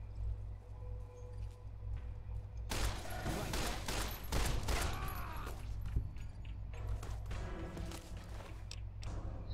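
Rapid bursts of laser rifle fire in Fallout: New Vegas crackle loudly in a dense volley from about the third second onward, over a steady low hum.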